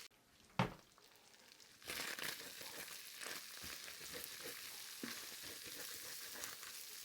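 Pearl onions sizzle in a hot pan for beef stew, a brief sharp clatter followed by a steady, moderately loud frying hiss with occasional stirring scrapes.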